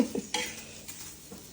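A spoon stirs onion frying in a pan on the stove, giving a few brief scrapes and soft clatters over a low sizzle, close and moderately quiet, with no talking.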